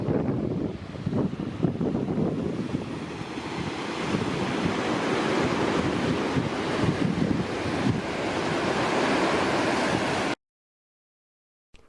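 Surf and gusting wind on a beach on the way to Marion Bay on the Yorke Peninsula, a steady roar of breaking waves with heavy wind buffeting the microphone, close and loud throughout before cutting to silence near the end.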